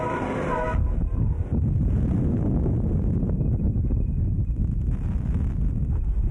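Strong typhoon wind from Typhoon Nesat (Pedring) roars and buffets the microphone in Quiapo, Manila, a loud, continuous rush with a brief higher whistle at the start.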